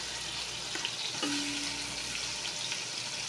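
Meat fries in a pan with a steady close sizzle and faint stirring clicks, one brief tonal squeak partway through, no voices.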